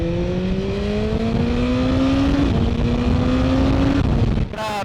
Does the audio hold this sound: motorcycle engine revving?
yes